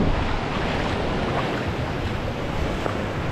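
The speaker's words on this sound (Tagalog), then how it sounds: "Tapos nakikita mo yung ampas ng alon oh." Steady roar of ocean surf on a beach in Real, Quezon, Philippines, with wind rushing across the microphone, a continuous wash of breaking waves and no talking.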